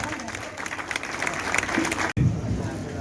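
An audience at an award ceremony in Damoh claps in a dense, steady wave with some crowd voices mixed in. A sharp cut near the end is followed by a brief louder burst.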